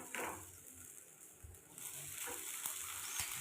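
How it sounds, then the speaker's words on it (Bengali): Vegetables fried with sauce in a kadai are stirred over a steady sizzle, with soft scrapes and clinks of the utensil against the pan. "সস দিয়ে আবার একটু নেড়ে নেব।"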